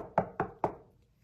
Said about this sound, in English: Wolf banged on the door.